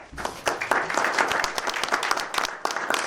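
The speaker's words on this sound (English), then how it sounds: "How about a round of applause for Ryan Hall?" An outdoor crowd at a summer community event in Dunkirk, New York, gives a sustained round of applause, dense clapping heard from a little distance and fairly soft.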